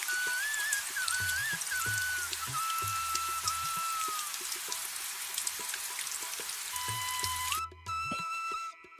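Heavy downpour over fields at night: a dense, steady hiss of rain with a whistling melodic tone and low muffled thumps layered over it, cutting out abruptly near the end.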